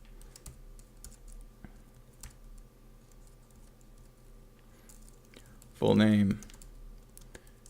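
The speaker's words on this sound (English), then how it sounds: "So let's open Sublime and then type the following" Soft, scattered keyboard clicks as someone types a database insert command into the Sublime text editor. The tapping stays quiet and close throughout, and a voice briefly speaks near the end.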